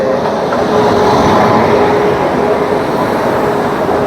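The Humsafar Express, running Anand Vihar to Madhupur, rumbling at a railway station, a loud, close, continuous roar of wheels and machinery with a faint steady whine, no voices.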